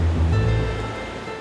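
Ocean surf rolling onto a beach in Accra, Ghana, a loud, continuous low rumble of breaking waves that swells early and then eases slightly, with no voices.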